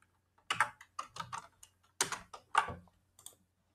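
Typing on a computer keyboard while writing Python code: a few clustered bursts of crisp key clicks, close and fairly loud, with short silent gaps between them and no talk.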